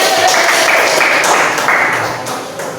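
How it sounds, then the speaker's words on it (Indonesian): A classroom of students applauds during a lesson, a dense steady burst of clapping from many hands that holds for a few seconds and gently fades. "tepuk tangan dulu kita ya"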